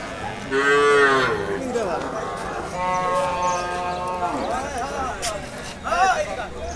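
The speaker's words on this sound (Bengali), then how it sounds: "এটা হচ্ছে সেই গরু" A cow moos loudly several times, long drawn-out calls rising and falling, with people talking and murmuring nearby in between.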